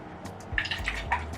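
Coconut water is poured into a champagne glass, giving a few light splashes and gurgles followed by soft drips, close and fairly quiet.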